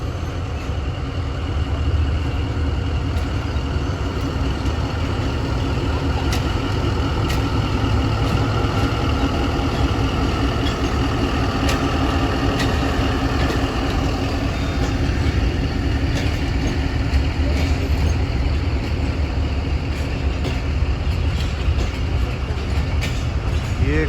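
An RG20 locomotive at Lahore railway station hauling the Allama Iqbal Express toward Sialkot, its engine a steady, loud, continuous rumble, with faint metallic clicks and station noise throughout.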